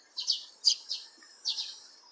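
Several Eurasian tree sparrows chirp close by, giving bright, sharp tweets in short clusters of two or three notes with brief pauses between them, clear against a quiet background.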